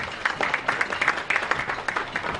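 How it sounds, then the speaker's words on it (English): An audience at a tourism partnership event applauds, with dense, steady clapping from many hands throughout the short stretch, heard alone and without speech. "I think for that we deserve to give ourselves a round of applause"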